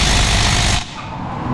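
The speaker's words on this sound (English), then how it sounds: "now we'll see if the stubby 3/8 will do the 18 millimeter bracket bolts" A stubby 3/8 ratchet works on 18 mm brake caliper bracket bolts during a front disc brake job on a Cadillac, a loud, fast, rattling buzz that drops off sharply partway and then resumes more faintly.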